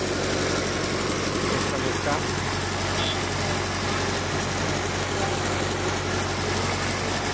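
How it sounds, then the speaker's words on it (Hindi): An old Belarus Russian 65 HP tractor from around 1970, seen in India, idles after starting, with a steady low diesel rumble and vibration throughout while someone talks over it. "ये देखो स्टार्ट किया भाई, देख सकते हैं आप लोग ट्रैक्टर को"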